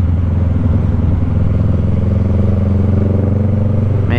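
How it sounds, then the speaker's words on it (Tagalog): Steady, loud droning engine of a Kawasaki Ninja 650 motorcycle on the road in slow-moving traffic, a constant low rumble at even speed with no clear revving. "Ang motor yun, ninja yun."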